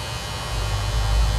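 A Syska HT3050 electric beard trimmer runs close up with a steady, loud motor buzz and hum, heard alone.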